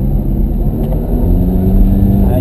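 A Ferrari engine pulls hard on a track laid out at Candlestick Park. The loud, steady, close-up rumble builds slightly as it goes.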